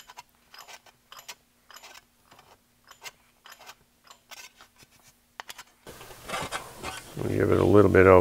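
Abrasive tool scraping and rasping over a metal Talbot Lago car fender panel, a series of short repeated strokes, then a louder sustained burst with a humming tone at the end.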